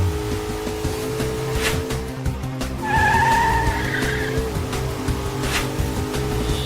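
A car skidding out of control with failed brakes, a rough, sustained screech with squealing tyre tones rising midway, loud and close over continuous road noise, with no talk.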